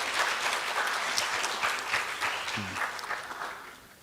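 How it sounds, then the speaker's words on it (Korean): An audience at an education AI forum gives a professor a warm welcome with steady applause, moderately loud and evenly sustained, tapering slightly toward the end, with a faint voice briefly underneath. "힘찬 박수로 환영해 주시면 고맙겠습니다"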